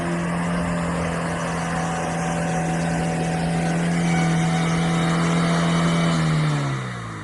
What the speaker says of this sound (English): The engine works right at the cutoff.